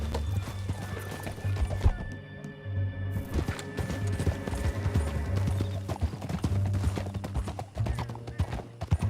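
Horse hooves clip-clopping in a steady gallop rhythm with horse whinnies over a low rumbling backdrop, loud and close, in the video game Red Dead Redemption 2.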